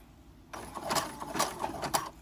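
A sewing machine runs a zigzag stitch on black fabric in short, uneven bursts of fast needle chatter, starting abruptly after a quiet moment and stopping near the end, close and moderately loud.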